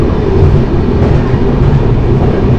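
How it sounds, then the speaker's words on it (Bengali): The Kanchankanya Express rolls into Siliguri Junction, a loud steady rumble of wheels and carriages filling the whole stretch without letup, with no speech. "ট্রেন আমাদের ঢুকছে শিলিগুড়ি জংশন স্টেশনে।"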